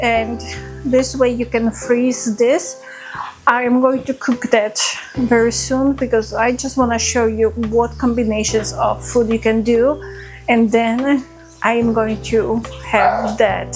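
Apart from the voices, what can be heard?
No everyday noises stand out.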